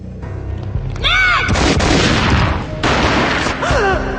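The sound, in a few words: gunshot in Max Payne mobile video game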